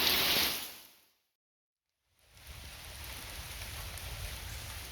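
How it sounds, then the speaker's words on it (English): Rain pours onto a roof during a pop-up storm, a dense hiss that fades to silence, then returns as a steady downpour. "So this roof always seems to do better at catching rain."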